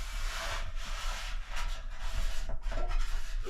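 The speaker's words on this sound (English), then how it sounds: "we'll just make sure we wipe all surfaces" Steady, close rubbing and wiping across a sanded car body panel, clearing dust from folded edges and surfaces in a home spray-painting setup, continuous with slight swells and no talk.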